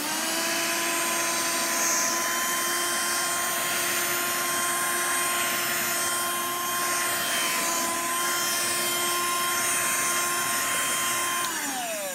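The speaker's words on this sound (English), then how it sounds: "today I've put some oats on the sofa so you can see how well it sucks up" A Black and Decker DustBuster handheld vacuum runs with a steady, loud motor whine at a constant high pitch while sucking oats off a sofa, winding down at the very end.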